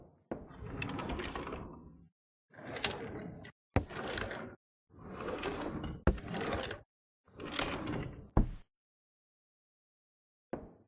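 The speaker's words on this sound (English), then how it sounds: "I need to check the drawer." Drawers in an indie horror game slide open and shut, about five rasping, clattering wooden movements separated by short pauses and closing thuds, loud and close with no talking.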